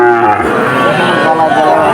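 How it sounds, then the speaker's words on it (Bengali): A dairy cow at a busy cattle market gives a loud, close, sustained moo that fills the whole moment, with faint crowd noise behind it. "দারুণ একটা গাই গরু মূল্যডাঙ্গা হাট"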